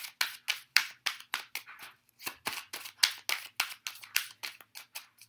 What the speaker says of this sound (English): Sorry for all the shuffling.